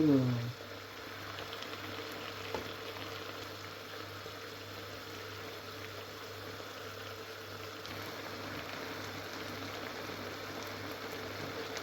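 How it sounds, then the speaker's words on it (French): Chicken stock simmers and reduces in a pan for a Japanese oyakodon, a steady soft bubbling hiss holding at an even level throughout with a faint low hum beneath. "On réduit au maximum pour enlever le liquide, le fond de volaille."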